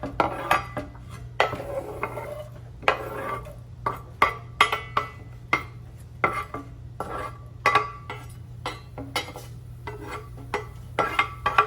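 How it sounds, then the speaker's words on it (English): Onion and pepper cooking in a heating skillet, heard mostly as repeated clanks and scrapes of a utensil on the pan over a soft low hum, at an irregular pace, close and fairly loud with no talking. "my skillet is heating and I'm gonna go ahead and I'm gonna just put in this onion and the pepper"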